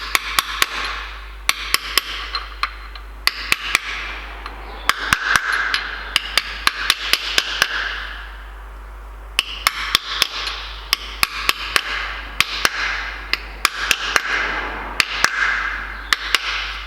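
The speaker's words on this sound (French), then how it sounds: "je vais terminer au... avec une petite rallonge et un marteau" Hammer striking an extension bar to seat a clutch part on a Mini with a badly burnt clutch, sharp metallic blows in quick bursts of several hits separated by short pauses, close and loud.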